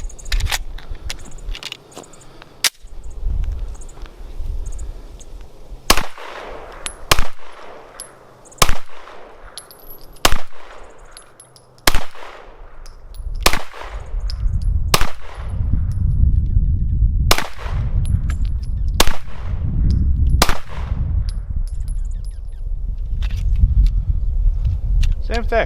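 A Gen 3 Glock 19 9mm pistol fires Winchester White Box 115-grain rounds from a ten-round magazine, about a dozen sharp cracks spaced irregularly with short echoing tails, while someone talks between shots.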